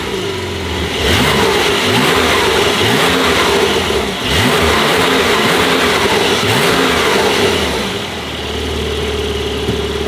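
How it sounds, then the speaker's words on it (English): A Porsche 992 Turbo S with a titanium Ryft full exhaust idles and then revs repeatedly in short, quick blips. The engine is loud and close, with a smooth, restrained tone and no talking. "Let's turn it on and like do some revs."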